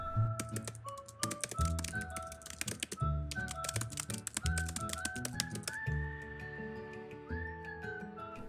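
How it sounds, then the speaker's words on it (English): Rapid keyboard typing, a dense run of crisp key clicks and thunks at close range, heard alongside a whistled melody with sustained tones and no speech. "Typing Out The Great Gatsby"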